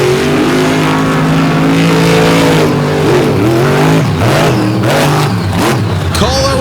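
Race cars at a Fowlerville racing event accelerate through a corner, their loud engine notes rising and dipping as they shift and throttle, heard close over a continuous roar.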